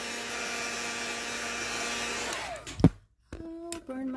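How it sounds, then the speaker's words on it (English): Heat gun drying chalk paint, a steady loud blowing whir that runs for over two seconds, then winds down and stops, with brief clattering handling noises and a restart. "heat it, dry it with the heat gun"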